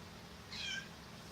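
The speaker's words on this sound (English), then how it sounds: "You might hear her meowing." A pet cat named Pumpkin meows once, faint and distant from somewhere off to the side of the room, a brief wavering cry over a low background hum.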